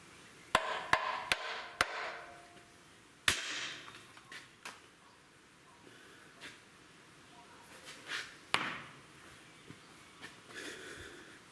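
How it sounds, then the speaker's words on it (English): A hammer taps the side of vehicle brake components in a workshop: a quick run of sharp metallic knocks, then scattered single taps of uneven loudness, fairly close, with faint background noise between strikes. "Might just get a hammer and just tap the side."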